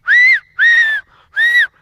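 Three loud, clear finger whistles made with fingers in the mouth, each a sustained high tone lasting about half a second, separated by short pauses.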